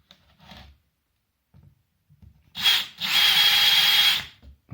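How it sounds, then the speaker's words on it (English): A power drill whirs briefly, then bores steadily through a consumer unit panel for over a second, close and loud, after a few quiet taps and clicks. "let's drill those through now."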